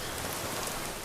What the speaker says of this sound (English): this rain just doesn't go away